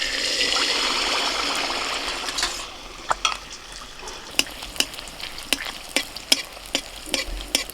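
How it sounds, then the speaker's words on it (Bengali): Chhana malpua deep-frying in a pan of hot oil, a loud bubbling sizzle that settles into quieter frying with repeated sharp clinks and scrapes of a utensil against the pan. "বাকি মালপোয়াগুলো আমি এইভাবেই ভেজে নেব।"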